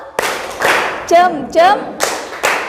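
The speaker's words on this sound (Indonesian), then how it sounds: "Oke, ayo kita kasih aplaus dulu ya. 1, 2, 3, tepuk jempol." Students in an Indonesian classroom clap out a thumb-clap chant, sharp rhythmic group claps alternating with voices calling out the chant in between, loud and close.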